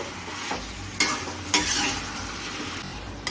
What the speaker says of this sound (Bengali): এটা গ্যাসের ফ্লেমটাকে লো টু মিডিয়াম করে দিয়ে আস্তে আস্তে কষিয়ে নেব